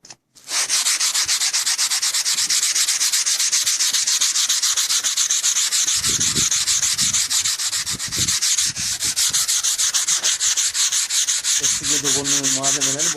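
Steady, loud rasping of sandpaper rubbing over wooden furniture legs, continuous strokes with brief pauses, close up and with no voices.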